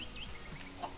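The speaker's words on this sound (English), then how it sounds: "there's lots of chickens over here" Chickens in Minecraft's Colony Craft modpack give a few faint, soft clucks, quiet and close, with no talking.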